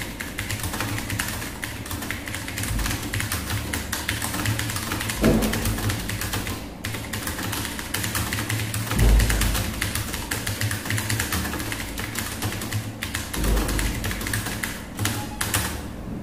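Fast, hurried typing on a computer keyboard during a Hindi typing demonstration, a steady run of dense key taps with a few heavier thumps, close up and with no voices.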